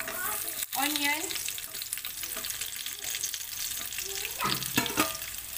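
Onions sauteing in a pan for a Filipino beef stew, a continuous close sizzle with scraping stir strokes and a few clinks, no voice over it.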